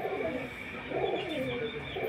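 A pair of Kalpitiya pigeons, a male and a female, coo in soft repeated rolling calls close by, over a steady faint hiss, with no voices.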